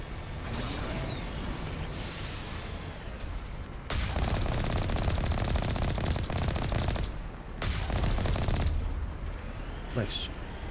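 Turret gunfire during a Mass Effect video game fight while driving the Mako: sustained rapid bursts of shooting with mechanical clatter, loud and continuous and swelling in two stretches, with speech faintly present.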